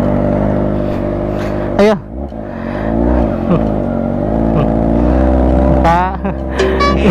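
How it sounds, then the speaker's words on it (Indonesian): Kawasaki ZX25R motorcycle ridden by a mother carrying a passenger on the way to market, its high-revving four-cylinder engine droning steadily and rising through the gears, with a voice speaking briefly over it. "Oke, Bung, mama gua bawa ZX25R."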